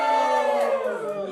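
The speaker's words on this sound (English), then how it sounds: "There'll be another big cheer outside." A crowd cheers and shouts together in a short, loud burst at a lottery draw for the HURT100 trail race, the roar swelling briefly and holding steady throughout.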